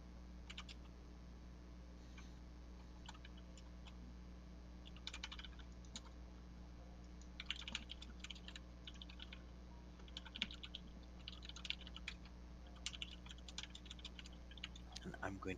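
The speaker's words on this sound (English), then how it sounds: "I'm going to assume that typing sounds means that something might be coming" Computer keyboard typing during a Curse of Strahd tabletop session, quiet bursts of clicking keys over a low steady hum, sparse at first and growing busier toward the end.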